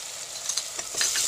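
Ginger garlic paste sizzling in a pan with softened tomato for dal palak, a steady close frying hiss with a few stirring scrapes and no talk.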